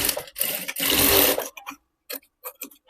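A sewing machine stitching a folded waistband strip onto a blouse whirs in one close, steady run of about a second and a half, followed by a few sparse clicks.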